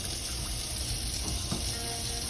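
Water runs steadily from a tap in a refurbished villa in Orlando, Florida, a constant close rushing stream with no voices.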